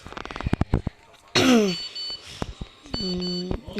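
A short electronic notification beep in a video game as a message is sent, a clean tonal chirp near the end, preceded by scattered clicks, a sweeping whoosh and other game sounds.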